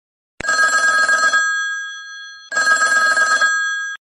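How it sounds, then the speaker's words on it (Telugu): A custom ringtone built around a person's name plays on a mobile phone as two loud, bright bursts of about a second each, separated by a short silent gap. "ఇప్పుడు ఇదే రింగ్ టోన్ ని మీరు డౌన్లోడ్ చేసుకోవచ్చు"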